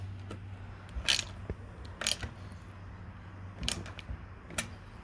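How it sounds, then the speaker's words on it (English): A ratchet with a 10mm socket tightens the bolts on a motorcycle's ProTaper handlebars, giving four short, sharp bursts of clicking spaced about a second apart over a low background hum. "So take a 10mm and just tighten those up real good."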